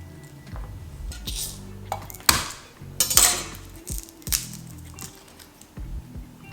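A knife mincing fresh garlic cloves on a cutting board gives irregular sharp taps and clacks, close and moderately loud, some strokes louder than others, with no talk.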